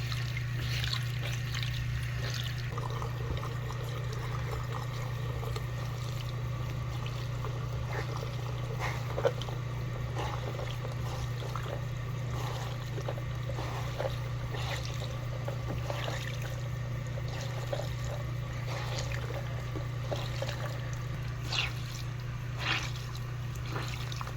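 Liquid is poured and trickles while makeup brushes are washed, giving faint, scattered splashing and dribbling over a steady low hum throughout, with no voices.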